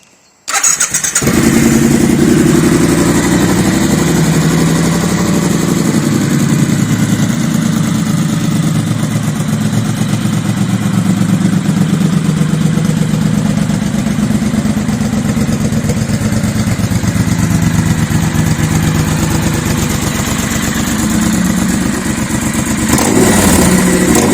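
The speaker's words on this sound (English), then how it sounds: "I'm going to start it for you guys now, so you can tell what these Norman Hyde cans are all about" A Triumph Bonneville T120 motorcycle fitted with Norman Hyde exhaust cans starts up and runs steadily, a loud, deep, continuous exhaust rumble close by that holds for over twenty seconds with slight rises in revs, no talking.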